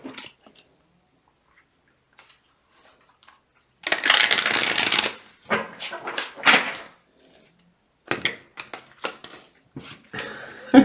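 Tarot cards riffle and shuffle in several quick bursts, with short pauses and soft handling noises between them.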